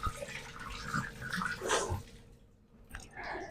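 Freshly cut onions swished and rinsed in a bowl of water, soft close sloshing and squelching in short bursts, then a brief quiet gap before more splashing, with no talk.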